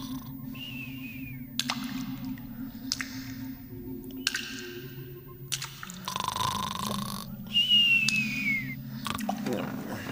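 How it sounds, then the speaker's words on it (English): Water drips at irregular intervals, each a short wet plop, with a low background hum and occasional squishy gurgles. "the dripping can drive you crazy."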